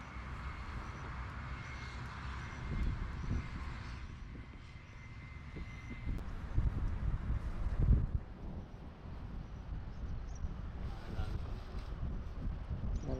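Strong wind outdoors in a Rajasthan village buffets the mic as a continuous low roar with gusts swelling around the middle and fading again, steady across the whole stretch with no clear speech.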